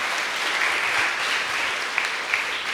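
Congregation clapping for a bishop during a Confirmation Mass in English: steady, even applause from a room full of people, close and fairly loud.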